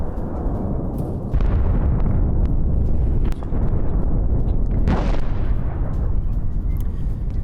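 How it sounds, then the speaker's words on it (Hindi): Missile strikes and bombardment explosions on Houthi sites in Yemen: a continuous, heavy low rumble with repeated deep blasts. One sharper burst stands out near the middle. No voices are heard. "हूती के 5 अहम ठिकानों पर दर्जनों मिसाइलें दागी गई।"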